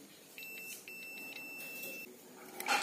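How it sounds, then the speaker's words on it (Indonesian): A continuity tester's buzzer on a set-top box circuit board gives steady electronic beeping, a sustained high tone broken into a few segments, clear against a quiet background with faint handling noise. "jika kita cek menggunakan buzzer akan berbunyi"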